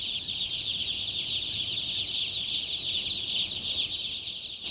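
A dense flock of chickens at a poultry farm in Cameroon, countless high peeping and clucking calls merging into a continuous loud chorus, close and unbroken with no talk.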